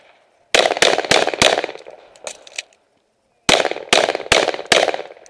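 Rifle shots at a benchrest gun club, a rapid string of four loud sharp reports with ringing decay, a brief lull, then another four evenly spaced cracks close by.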